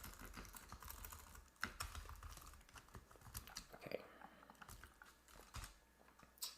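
Quiet, close typing on a computer keyboard while writing code for terminal text selection, with irregular bursts of key clicks and a few louder taps, steady and faint throughout.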